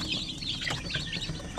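Newly hatched shamo aseel and zampen native chicks peep in rapid, overlapping high chirps, close and continuous with soft background noise.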